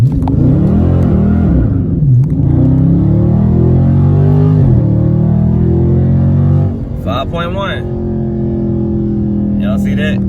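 A 2020 Dodge Charger Scat Pack on stock Goodyear 245 all-season tires launches hard with its wheels spinning. The engine roars loud and close, its pitch climbing and dropping through several gear changes.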